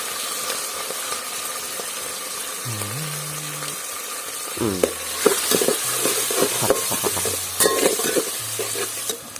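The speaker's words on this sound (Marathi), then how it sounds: "एकदम चायनीज स्टाईल एकदम हाय फ्लेम ओके तर आता कांदा कांदा आणि कढीपत्ता" Onion and curry leaves fried on a high flame, giving a loud, continuous sizzle with scraping stirs that grow busier toward the end, along with some faint tonal hums in the background.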